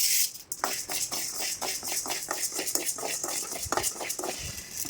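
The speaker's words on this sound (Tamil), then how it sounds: "உளுத்தம் பருப்பு வறுத்துக்கலாம்" A spoon scrapes and rattles against a metal pan in steady, repeated strokes as dry urad dal lentils are stirred and roasted, close and fairly busy throughout.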